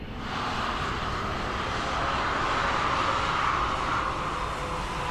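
A Ryanair airliner in Microsoft Flight Simulator 2020 rolling out after landing at Dublin Airport with thrust reversers deployed, a loud, steady jet roar that swells slightly and holds throughout.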